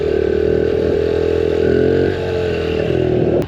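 A Honda CRF110 dirt bike throttles up hard into a wheelie, its small engine giving a steady, loud, close buzzing drone that holds for a few seconds, then dips slightly and picks up again, with no talking.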